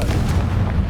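A Confringo blasting spell in Hogwarts Legacy goes off as a loud, close, deep booming burst with a rumbling low-end tail, heard alone.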